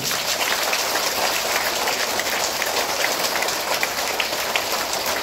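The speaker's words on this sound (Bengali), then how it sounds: "দিদির জন্য জোরে একটা হাততালি হবে।" Dense, steady clapping from a gathering honours a woman who placed first among four blocks. The applause is loud and continuous, like heavy rain, with no talking over it.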